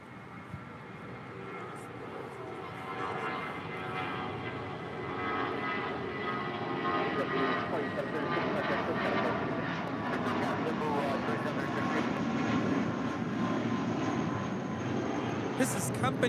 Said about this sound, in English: This is Company Blue departing to San Francisco on a 17-year-old A320 with JetBlue Airways